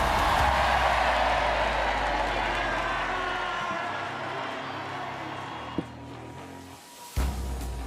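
A crowd cheering at the Rogue Invitational fitness event in Aberdeen: a loud, broad roar of voices that gradually fades and thins over several seconds, with a commentator talking over it.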